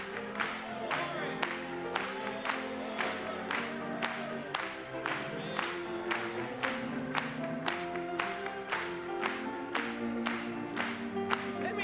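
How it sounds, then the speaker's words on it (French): A church congregation at a French-language service claps in steady rhythmic unison, crisp regular hand claps over singing and music that continue throughout. "Acclamons encore une fois pour lui."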